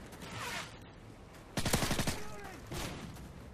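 A rapid burst of P90 submachine-gun fire in Call of Duty: Modern Warfare 3, preceded and followed by softer game noise and brief shots.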